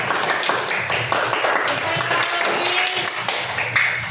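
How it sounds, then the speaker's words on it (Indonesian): A classroom group claps together in a steady burst of applause, many hands overlapping at close range, with voices murmuring underneath throughout. "Tepuk tangan dulu untuk kita semua."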